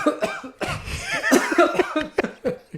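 A few harsh coughs, close and fairly loud, mixed with some chuckling, followed by short choppy bursts.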